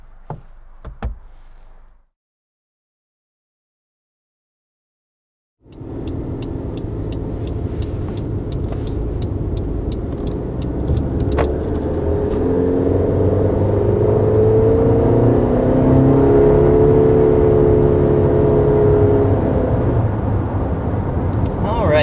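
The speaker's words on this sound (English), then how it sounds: "So that was up to 60 miles an hour with this 2021 CR-V." A 2021 Honda CR-V accelerates up to 60 mph after a brief knock and a short silence, its engine note climbing steadily in pitch through gear changes beneath growing road and wind noise inside the cabin.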